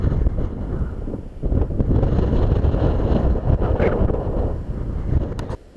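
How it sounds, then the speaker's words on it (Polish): Strong wind buffets the microphone in heavy, rumbling gusts that swell and stay loud throughout, with no voices. "No wiatr się nasila."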